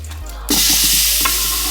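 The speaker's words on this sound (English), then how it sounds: "I'm gonna drop this meat in." Meat dropped into hot oil for yakamein bursts into a loud, sudden sizzle that holds steady and close after a brief quiet moment.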